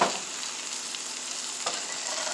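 A sirloin steak cut from a roast sears in a pan while being basted with butter, garlic and rosemary, giving a steady, close, loud sizzle with a couple of brief spoon-scrape accents.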